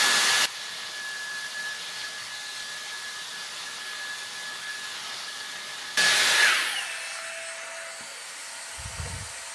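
A Dyson Airstrait hair dryer blowing on damp hair gives two short, loud gusts of airflow, one at the start and one midway, with a softer steady hum between them.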